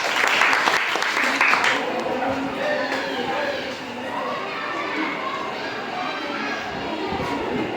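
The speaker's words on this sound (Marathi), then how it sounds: "एकदा टाळ्या वाजवायच्या आहेत" A burst of clapping from a group of people at a village school quiz event in Chinchgavhan, loud at first and then fading into lively crowd chatter and children's voices.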